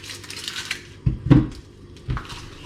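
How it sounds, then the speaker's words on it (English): A knife dices an onion on a cutting board, giving a few sparse, sharp chopping knocks spaced about a second apart, close and fairly quiet, with no talk. "So I'm dicing through the onion first and then across."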